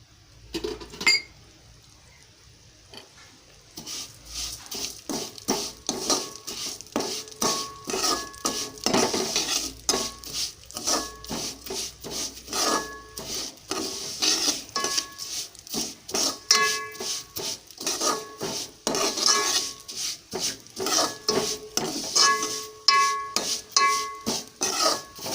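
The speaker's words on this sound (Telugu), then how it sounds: "సేమియాలు దోరగా వేయించుకోవాలి." Vermicelli roasting in ghee in a pan, stirred with a metal spoon: rapid repeated scraping and clinking against the pan over a faint sizzle, close and continuous after a quiet start, no talk.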